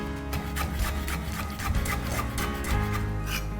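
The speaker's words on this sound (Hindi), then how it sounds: "ये रफली रफली तोड़ के मिंट डाल दिया जी" Fresh mint leaves are torn roughly by hand for a spicy fish roll filling, giving a quick run of soft, crisp rustling snaps close to the ear.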